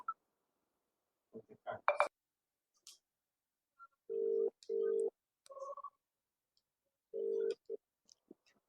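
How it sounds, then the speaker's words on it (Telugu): A phone call being placed: a few keypad clicks and beeps, then repeated loud ringback tones in separate bursts with quiet gaps between them, close and clear, with brief voice sounds near the start. "ఫోన్ ఒకసారి ఫోన్ చేసి అడుగు"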